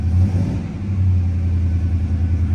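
A 1974 Oldsmobile Cutlass with about thirty-some thousand miles idles close by, a loud steady low rumble with a smooth, even burble.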